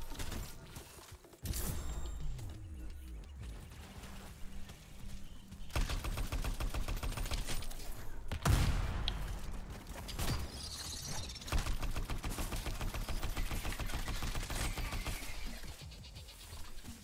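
Rifle gunfire in the video game Anthem, with rapid bursts of shots rattling off in long continuous strings, fairly loud and steady, with short breaks between volleys.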